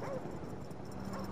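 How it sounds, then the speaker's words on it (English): Attack dogs in the Call of Duty Black Ops video game bark and whimper in a quick, steady run of yips as they chase the player, set in a dense, busy game soundscape. "Dogs are chasing me."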